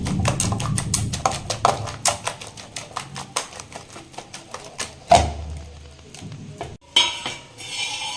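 A whisk or spoon beats loose bhajji batter in a bowl, producing a rapid run of sharp, even clicks and taps against the side, then slowing to a few scattered knocks and clinks up close.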